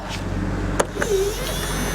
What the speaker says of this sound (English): Just remember, before we shut the car off, to roll the window up.